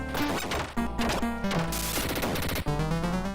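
Shooting in the 1991 Dick Tracy game for the Sega Mega Drive: sharp, crashing gunshot hits land repeatedly over steady chiptune-style music, loud and close.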